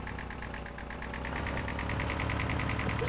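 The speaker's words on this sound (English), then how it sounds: "This tractor actually does pretty good." A tractor engine runs steadily in Farming Simulator, a continuous mid-pitched drone with a rapid rhythmic knocking pulse that grows slightly louder, with no talking.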